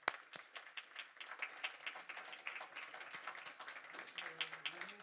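Conference audience applause: many hands clapping in a thin, uneven patter, fairly faint and roomy, with a brief voice near the end.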